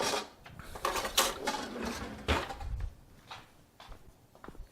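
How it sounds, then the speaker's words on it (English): Stand mixer paddle being dug out from among dishes, with clattering metal and ceramic knocks and scrapes coming in irregular bursts, close by. "Now I forgot to get the paddle out here for my mixer"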